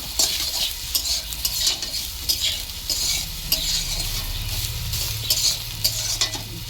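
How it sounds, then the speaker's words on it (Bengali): Soybean chunks fry in oil under a steady sizzle, and a spatula stirs them with repeated clattering scrapes and knocks against the pan. "সোয়াবিনটা লাল লাল করে ভাজা হয়ে গেছে।"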